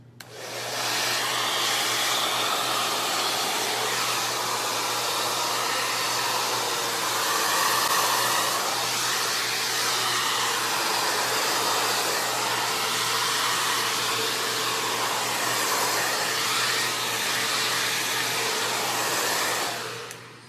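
A hair dryer fitted with a diffuser runs on high heat at medium-to-high speed, hovering over wavy hair; a steady, loud broadband whoosh with a constant low hum holds for the full twenty seconds with no talking.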